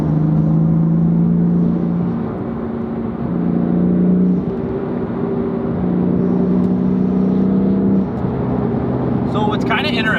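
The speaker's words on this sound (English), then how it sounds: "So now we are driving the M4, and it does make a very good noise." A BMW M4 fitted with a Turner Motorsports cold air intake drones loudly from inside while driving, its engine note stepping up and down through steady pulls.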